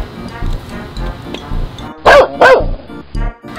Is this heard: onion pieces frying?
no